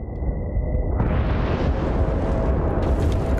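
A thrown grenade detonates in Battlefield 1943, heard as a thin ringing tone that cuts off into a loud, broad roaring blast which rumbles on at steady volume with crackling debris.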